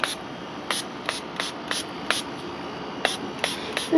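A spray bottle misting diluted green tea dye onto doily paper, a quick series of short, crisp spritzes at an irregular pace, close and fairly loud against quiet background hiss.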